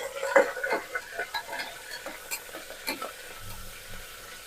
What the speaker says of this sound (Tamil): 2 பச்சை மிளகாய் போட்டு கருவேப்பிலை போட்டு கொஞ்சம் வதக்கணும்